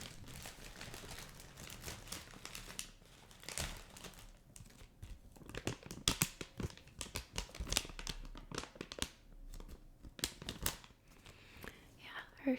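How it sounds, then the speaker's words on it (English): Plastic candy bag holding Hershey Kisses crinkles close and soft in bursts of crackling rustle, with quiet pauses between handlings and a soft-spoken voice at times. "it's in a plastic bag, which has phenomenal sounds"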